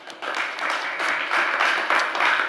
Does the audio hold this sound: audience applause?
yes